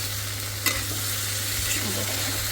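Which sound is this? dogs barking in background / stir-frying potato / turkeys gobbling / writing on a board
stir-frying potato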